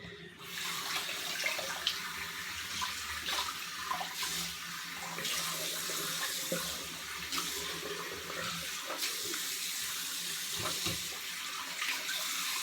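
Water runs from a bathroom sink tap after a shave, a steady close hiss and splash with a few small knocks and shifts in flow across the whole stretch.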